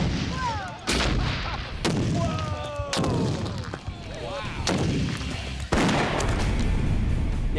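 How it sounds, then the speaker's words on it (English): A double load of Hollywood binary explosive set off by a bullet: several loud sharp blasts at roughly one-second intervals, each a sudden crack followed by a booming rumble and echo, heard from a distance outdoors. "this is Hollywood binary explosive double load."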